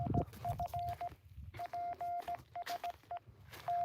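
Faint, short Morse code beeps from a small radio in an irregular on-off pattern come through alongside outdoor rustling and background noise at Fort Deseret, Utah.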